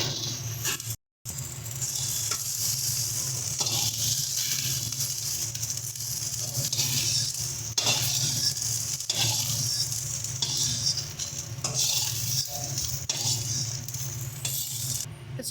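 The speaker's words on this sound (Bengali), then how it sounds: "দেখো ভেন্ডিগুলো কিন্তু আমাদের সুন্দর মতন লাল লাল করে ভাজা হয়ে গেছে।" Okra fries in hot oil in a pan, with a steady, moderately loud sizzle and occasional scraping from stirring, continuing without pause and with no voices.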